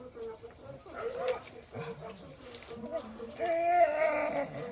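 A dog whines and growls in short bursts, close by on a pig farm, mixed with a person talking.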